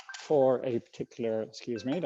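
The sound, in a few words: phone going off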